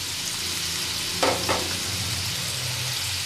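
Chopped onions go into hot oil for kothu porotta and fry with a steady, close hiss, with a brief burst of louder crackling about halfway through; no voices.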